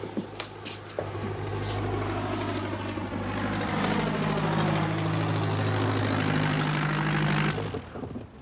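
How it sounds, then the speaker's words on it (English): A military aircraft comes in to land at a headquarters airfield, a loud continuous engine and propeller drone with steady low tones and a slowly shifting pitch across the whole stretch before it cuts off near the end. "It's Captain Dornish landing now, sir."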